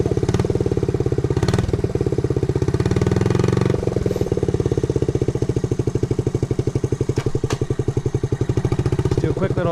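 A 1969 Honda Z50 mini bike's small single-cylinder engine runs close by with a steady rapid putter, briefly swelling in a rev near the start before settling back to a regular idle-like beat.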